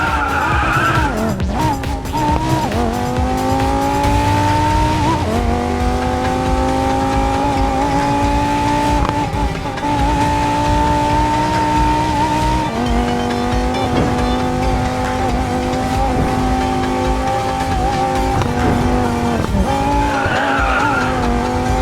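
A race car in a racing video game skids after braking late, its tires squealing in long sustained tones over a constant engine drone, loud and close for the whole stretch.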